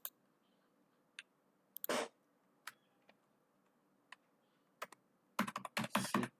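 Keys on a computer keyboard are struck to enter a long password, sparse isolated clicks at first, then a fast dense burst of typing at the end, close and fairly quiet.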